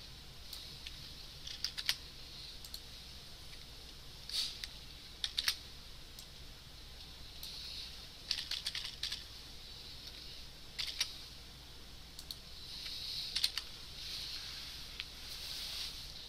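Typing on a computer keyboard during a client/server scripting lecture, faint bursts of quick key clicks separated by pauses, soft and steady throughout with no talk over it.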